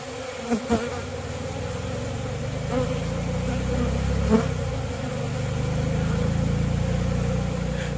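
Honeybees swarm in the air in front of a hive entrance, a dense continuous buzzing hum, loud and close, with a faint engine-like drone underneath and occasional soft knocks.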